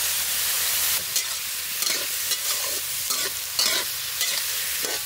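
Shrimp fry loudly in hot oil with garlic, green chili and onion, making a continuous close sizzle. Several stirring scrapes break through the hiss, and no one speaks.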